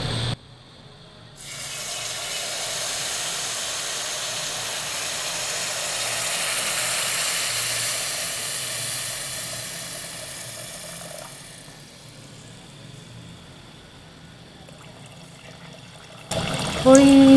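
Sugar syrup is poured into hot semolina halwa in a home kitchen, giving a loud, continuous sizzling hiss that builds for about ten seconds and then eases to a softer simmer before someone speaks.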